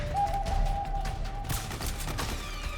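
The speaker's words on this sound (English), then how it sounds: "Who are you shooting at?" Gunfire in Metal Gear Solid 4, a mix of sharp shots and short bursts crackling at moderate distance, with a steady tone early on and a denser volley near the end, no talking.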